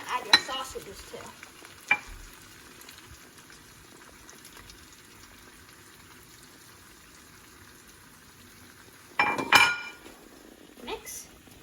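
Shrimp and chorizo sausage stirred in a skillet, with scraping and clinking bursts near the start, around two seconds and again toward the end over a steady low sizzle.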